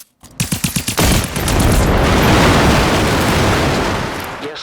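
Gunfire in the video game Generation Zero: a quick string of sharp shots gives way to a loud, sustained roar of rapid fire and blasts that slowly tails off, with no voices.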